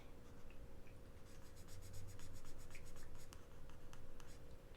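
Sharpie marker writing on cards, faint close squeaky scratching strokes in short bursts against quiet room hiss, with no voices.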